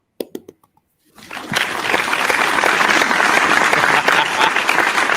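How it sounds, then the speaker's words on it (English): A brief vocal sound and a moment of silence give way to a studio audience clapping for a guest on a beer-sharing talk show, loud, full and continuous applause that holds steady to the end. "Little round of applause for Zach."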